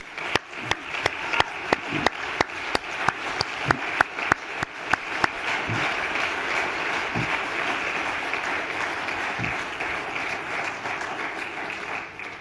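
Applause at a partnership signing between the State and The Sorority Foundation starts with a few sharp, spaced claps that quickly swell into sustained, dense clapping from a seated audience, moderately loud and even.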